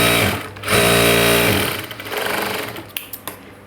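A sewing machine top-stitches a blouse in close, loud bursts: a sustained whirring run, a brief pause, a second rattling run, then a few sharp clicks.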